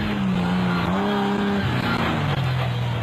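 Nissan Hardbody off-road race vehicle at high speed during a desert race prologue, a loud continuous engine note that holds steady then drops slightly in pitch as it shifts, with rough road noise underneath.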